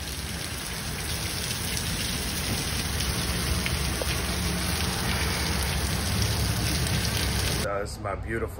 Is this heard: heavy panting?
no